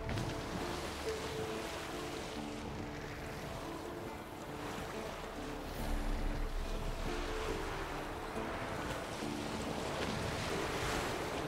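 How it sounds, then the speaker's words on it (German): Continuous wind and rolling waves on a sailing boat in The Witcher 3 video game, a broad steady roar with a flapping sail, swelling slightly midway, with no voices. "Geh aus dem Wind, das Segel flattert."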